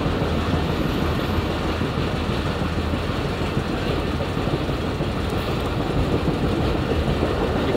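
Shalimar Express passenger train rolling steadily along the rails, a continuous loud rumble of wheels and carriages from on board with faint clickety-clack throughout and no voices.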